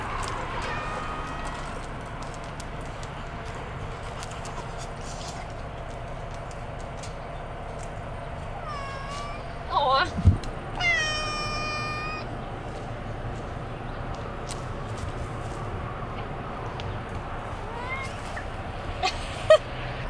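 A stressed cat on an RV travel day gives a couple of short, rising meows partway through, set against a steady background hum of road noise.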